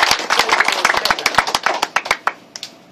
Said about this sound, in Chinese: 再一个掌声来好好鼓励